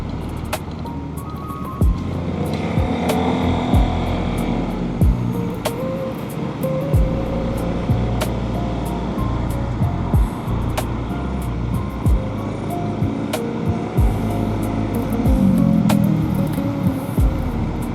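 Cars and motorbikes stream steadily along the busy Puncak route between Bogor and Bandung during Lebaran, with a continuous engine rumble close by. Sharp clicks and knocks sound now and then, and no one talks.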